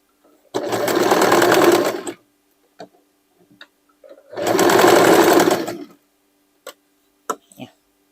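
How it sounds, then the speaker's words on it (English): A sewing machine stitches topstitching on denim over an overlocked seam, running in two distinct bursts of about a second and a half each, separated by quiet pauses with small clicks and taps. "I will start to stitch this side stitching on top of it, like this, just to cover the overlock here."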